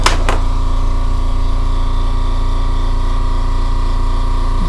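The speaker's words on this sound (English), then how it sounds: "Very small compressor, pancake compressor." A very small pancake air compressor running steadily while inflating a used mountain bike tire, a loud continuous motor drone with a constant pitch, close by, with a couple of brief clicks at the start.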